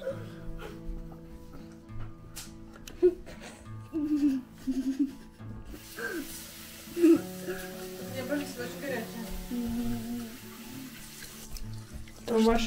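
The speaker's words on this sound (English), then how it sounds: "I'm washing rice" Rice is washed under a running kitchen tap, a steady close stream of water with sloshing and swirling, while people talk over it and a dog barks briefly.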